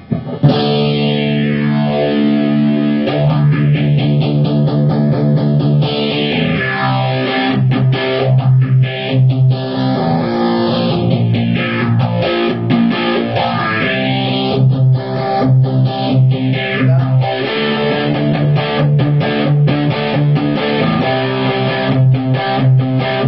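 Electric guitar played through a Maxon Phase Tone PT-909 phaser pedal with distortion, a loud sustained distorted tone with slow sweeping phase cycles repeating several times, alone without talk.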